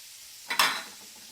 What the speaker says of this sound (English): So the first thing to do is I'm going to add our onions, our celery,